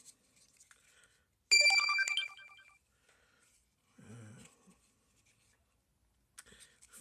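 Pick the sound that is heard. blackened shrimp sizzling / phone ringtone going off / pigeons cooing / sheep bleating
phone ringtone going off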